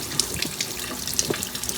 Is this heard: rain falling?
no